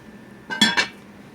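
A 24 cm mustard-yellow Akdeniz cast iron deep pot has its lid set on: two quick, close, ringing metallic clinks in a quiet room.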